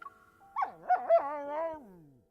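A cartoonish puppy in the video game Throne of Eros gives a short run of high, bending yips and whimpers, close and clear with no talking.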